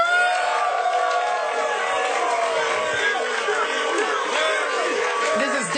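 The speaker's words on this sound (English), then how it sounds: "This is definitely a Mayweather crowd." A large boxing arena crowd at a Mayweather vs Pacquiao fight roars and cheers continuously, with loose whoops and yells in a big echoing space.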